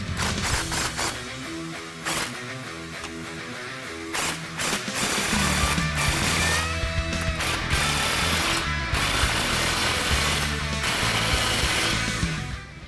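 An exhaust pipe clamp is tightened on a Ford F-150 Raptor during an aFe 3-inch stainless cat-back exhaust install, with rapid ratcheting and mechanical rattling bursts, loud and close, running throughout with brief pauses.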